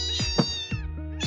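A cat in the video game Super Bear Adventure gives a quick run of about three or four short, close, clear meows one after another.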